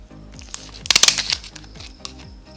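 Plastic packaging for boiled corn being cut and pulled open, a burst of crinkling and snipping rattles close by in quick clustered bursts, then eases off to a few faint rustles.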